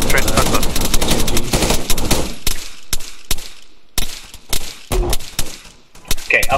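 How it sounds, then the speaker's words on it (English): Gunfire in the Arma military game as a squad engages enemy contacts, opening with dense, loud sustained automatic fire that breaks into separate sharp shots and short bursts, with voices talking over it. "Open fire on those contacts, due west, straight in front of us."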